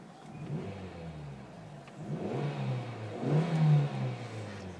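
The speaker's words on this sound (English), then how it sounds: "Let's listen to its engine." A 2008 Hyundai S3 coupe engine revs up twice, a moderate mid-pitched rise and fall over a steady idle, heard close from the car with no voices.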